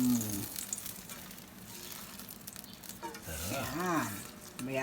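Sautéed pork cubes being poured and stirred into a pot of boiling mung beans, a faint sizzling bubble with soft clatter while a person talks over it.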